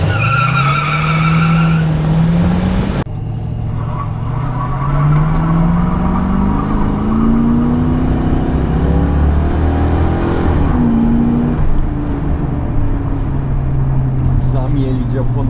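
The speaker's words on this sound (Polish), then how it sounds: "Zamielić oponami przy ruszaniu, zmienić z jedynki na dwójkę z piskiem." A Mercury Cougar pulls away with wheelspin, tires squealing loudly as the engine revs climb and shift up from first to second, with someone talking over it.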